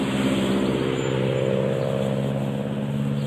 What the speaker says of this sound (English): you're going to hear some traffic going by as we do this